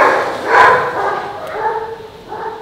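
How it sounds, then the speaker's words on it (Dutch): Dogs bark and yip briefly nearby at a horse stable, a couple of short, fairly loud calls over a steady background. "Dat waren de honden."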